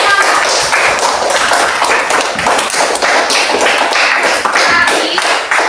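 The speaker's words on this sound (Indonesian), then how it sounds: "tepuk tangan dulu semuanya" Children in a classroom clapping their hands together, a loud, fast rhythmic burst of many palms in unison, continuing steadily throughout.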